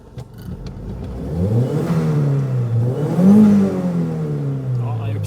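A tuned turbocharged Volvo car accelerates on a test drive, recorded from inside. The engine revs rise and fall as the car pulls through a gear change, loud and close, with a faint voice under it.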